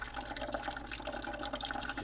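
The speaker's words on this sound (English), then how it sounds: "Just running some water through it." Water running through a GE Opal nugget ice maker during its clean cycle, a steady broadband trickle and gurgle of flowing water that continues evenly without a break.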